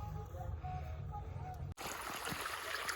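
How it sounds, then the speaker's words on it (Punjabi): Canal water rushing steadily into a farm field, a broad continuous wash with an abrupt change partway through, becoming a brighter, splashier flow. "ਪਾਣੀ ਕਾਫੀ ਜ਼ਿਆਦਾ ਹੈਗਾ ਕੱਸੀ ਦਾ"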